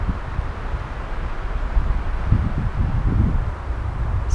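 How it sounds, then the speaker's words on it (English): Strong wind gusts hit an off-grid truck camper campsite during high winds, producing a low buffeting rumble across the microphone that swells around the middle of the clip. "So I just got a pretty good gust."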